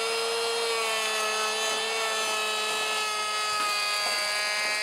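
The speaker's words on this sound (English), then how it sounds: "let's have a quick look at how the machine operates with no form of dust collection" A Hitachi P20SF electric planer runs steadily with no dust collection, a loud continuous high-pitched motor whine with a buzzing cutter tone, unbroken and alone for the whole stretch.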